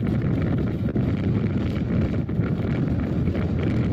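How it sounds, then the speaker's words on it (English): Strong wind at the Devon Ice Cap base camp blasting a microphone: loud, continuous low buffeting roar with gusty fluctuations and no other sounds or speech. "it was very windy"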